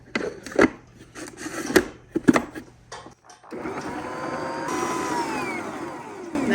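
A whirring electric mixer blends plum cake batter of sifted flour, baking powder and a dash of salt, steady droning motor after a few bumps and scrapes of the bowl.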